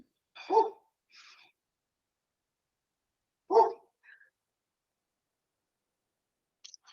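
A dog barks twice, loud and close, with a couple of softer yips following each bark, separated by a few seconds of silence.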